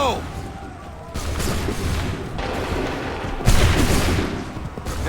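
A musket volley in the game Assassin's Creed III, with loud overlapping gunfire bursts and a strong crack partway through, over battlefield ambience and shouted commands.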